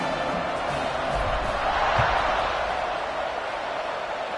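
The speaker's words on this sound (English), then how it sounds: "this crowd is buzzing after that last score" Football stadium crowd at an Indiana versus Nebraska game, a steady broad roar of many voices buzzing after a score, with a brief louder swell midway and no clear talk.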